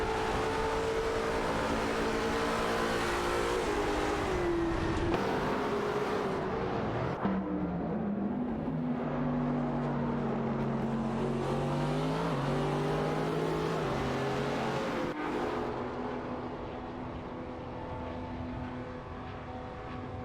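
Simulated race cars, an Aston Martin Vantage and a Ferrari Enzo among them, roar continuously in an AI racing game, engines rising and falling in pitch as they shift and accelerate, loud and steady with no one talking.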